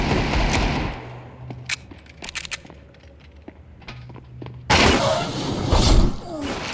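Gunfire in Counter-Strike 2 on the Nuke map, loud bursts of rapid shots at the start and again near the end, with scattered sharp impacts and clatter in between, no talking.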